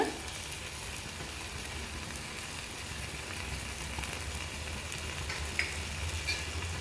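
Chicken stirred in a hot pan with green and red chilli sauces, soy sauce and fried tomato for spicy Kubaeran chicken, giving a steady, even sizzle and frying hiss that runs throughout without pause.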